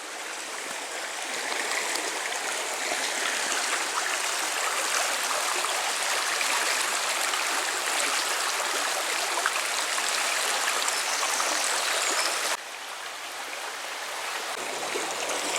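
A river flowing steadily past a bank on a countryside walk, a dense, even rush of water close by that barely changes, alone with no voices.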